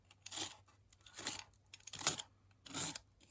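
Book cover being torn away from its binding by hand, four short separate ripping bursts in a quiet room, close and soft.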